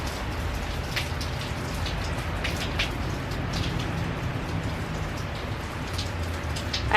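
Heavy rain falls steadily in a dense, even wash of patter with scattered louder drops, continuous and close, with no voices.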